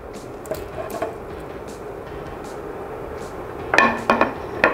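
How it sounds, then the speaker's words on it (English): Pork for chile verde going back into a cooking pot: a quiet kitchen murmur, then a quick cluster of clinks, scrapes and soft thuds near the end. "And then the meat back to the pot."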